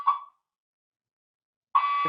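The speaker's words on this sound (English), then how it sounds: "somebody has an alarm going off" Two short electronic alarm beeps during an online meeting, a brief tone followed by silence and then a second sustained tone, clear and alone with no talking.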